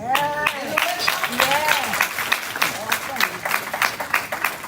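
Audience at a crisis center community event applauds beneath a person speaking, the clapping a steady background wash mixed with voices.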